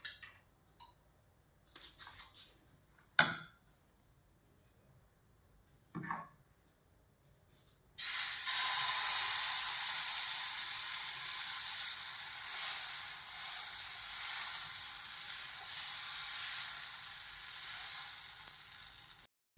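Patishapta batter meets a hot oiled pan after a few quiet clicks and taps, then a bright, steady sizzle rises suddenly and carries on continuously, fairly close.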